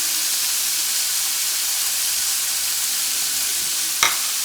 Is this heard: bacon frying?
yes